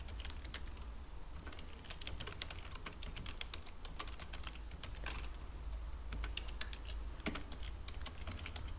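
Steady typing on a computer keyboard while creating a file in a GNU Linux terminal, quick irregular key clicks running throughout at moderate closeness over a low background hum.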